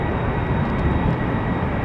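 A KLM Airbus A330 airliner holds at the runway threshold in showery weather, its engines giving a steady, broadband roar that stays even and fairly loud throughout.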